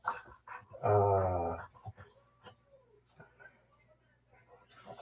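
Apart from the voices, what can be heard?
dog whimpering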